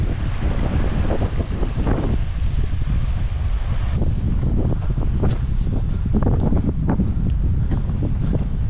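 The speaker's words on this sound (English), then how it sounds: "Quite windy, so I have to peg the tent down quite hard tonight." Strong wind gusting across open fell country near Styhead Tarn on the way up Scafell Pike, roaring and buffeting the microphone steadily throughout with no talk.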